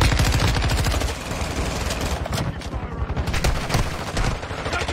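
Rapid gunfire from a video game firefight, dense bursts of loud shots running nearly continuously with a thudding low end, while a voice talks over the shooting.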